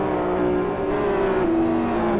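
777 Racing race car engine at full power during a race, a loud sustained droning whine with steady harmonic tones, close and continuous, with no voices.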